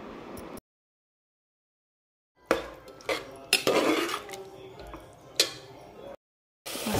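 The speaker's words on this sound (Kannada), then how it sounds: "ಇದಕ್ಕೆ ಫ್ರೈ ಮಾಡ್ಕೊಂಡಿರೋ ಮಶ್ರೂಮ್ ಹಾಕ್ತಾ ಇದ್ದೀನಿ." Fried mushrooms are added to masala paste in a cooking pan, bringing a few sharp clatters of a metal utensil against the pan in irregular bursts, separated by dead silent gaps.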